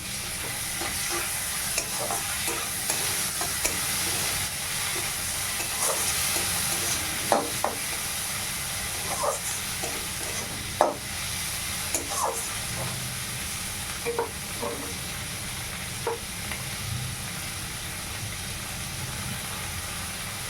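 Tomato fries with onion and green chilli in oil in a wok while a spatula stirs it, giving a constant sizzle broken by repeated scraping clinks at an irregular rhythm, close and clear.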